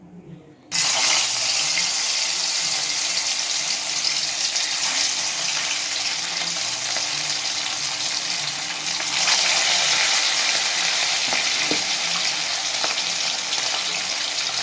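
Fish rubbed with salt and turmeric frying in hot oil for a Bengali doi katla dish, starting abruptly as a loud, dense, steady hiss of sizzling that continues without a break.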